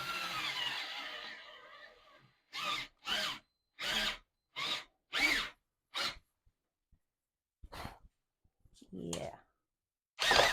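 A power drill whirs in a series of short bursts with pauses between them, close up, after a stretch of talking, while re-drilling a crooked guitar bridge.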